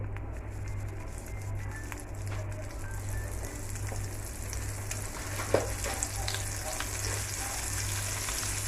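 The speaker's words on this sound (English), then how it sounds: "So we are in with the shrimp now. Just a few of them. You can call these popcorn shrimp." Popcorn shrimp frying in a pan for a Jamaican-style cooking session, a steady dense sizzle and crackle running throughout, close and fairly loud, with a low electrical hum underneath and a couple of sharper pops.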